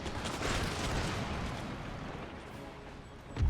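Howitzer artillery fire in a video game, a rumbling barrage of distant booms rolling on continuously, with a sharper thump right at the end.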